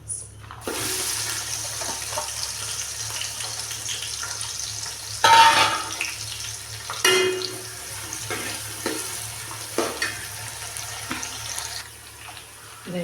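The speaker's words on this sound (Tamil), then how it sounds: "எண்ணெய் சூடாகிடுச்சு இப்போ வெங்காயம் போட்டுக்கலாம்" Onions frying in hot oil in a pan while a rajma beans kuska is cooked, a steady broadband hiss throughout with a few louder bursts and crackles as the pan is worked, no talk.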